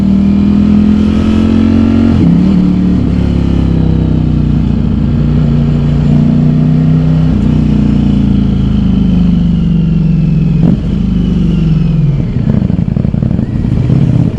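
A Ducati Streetfighter V4S motorcycle in rush-hour traffic, its loud, close engine droning steadily with small rises and dips in revs, and a couple of brief throttle blips.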